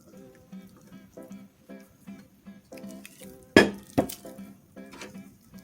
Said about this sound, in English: Now we're going to add in our flour